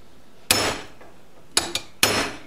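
Three sharp metallic hammer strikes driving a bearing race into place on a 1973 Honda CB750, close and loud, with a quick double tap between the second and third blows.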